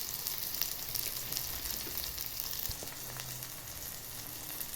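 Chopped onion with salt and chilli powder sautéing in oil for a stuffing, a soft, steady sizzle with faint crackles and a few light stirring knocks, no voices.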